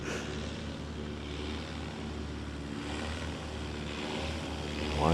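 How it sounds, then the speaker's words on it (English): A STOL airplane's propeller engine drones at a distance, its throttle modulated so the pitch and loudness swell and ease gently, ending in a slight rise, over faint background noise at a short-takeoff-and-landing championship. "Modulating that throttle to keep the nose up"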